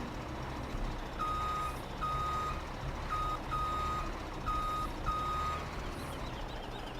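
Repeated reversing beeps sound from a tractor backing up a trailer near hay bales in Farming Simulator 17, a regular series of evenly spaced tones over a steady low engine drone, with no talking.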